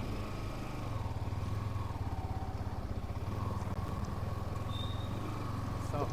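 Yamaha R15M motorcycle engine running steadily in first gear, a continuous low mid-pitched drone with a faint higher tone briefly near the end, loud and close throughout.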